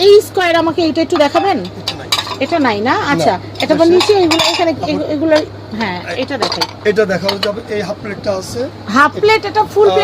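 Ceramic half-plate and full-plate dinner plates handled and clinking together, light knocks scattered beneath steady, close conversation throughout.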